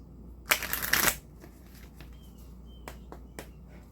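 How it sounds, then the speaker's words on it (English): A deck of tarot cards is riffled once in a quick, close burst of papery flutter lasting about half a second, followed by a few soft taps and handling sounds in a quiet room. "Do one more shuffle here."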